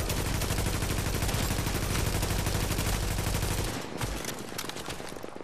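Rapid sustained automatic gunfire from a turret in the video game The Division, loud and continuous for several seconds before cutting off into scattered lighter shots and noise.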